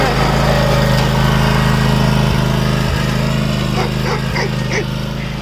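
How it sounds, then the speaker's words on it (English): A Cub Cadet 60-inch riding lawn mower runs outdoors after dark, a loud steady engine drone with a constant throb close by, and a few faint barks and knocks sound over it. "this is a sick mower"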